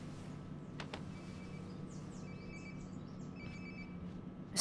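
A phone rings repeatedly in short electronic trills inside a house in Life is Strange: Before the Storm, heard from a little distance over a steady low room ambience, with no one talking.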